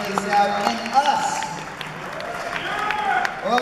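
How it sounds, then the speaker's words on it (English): Concert audience applause rises and falls in a dense wash of claps, mixed with voices calling out from the crowd. "Give yourself a big round of applause"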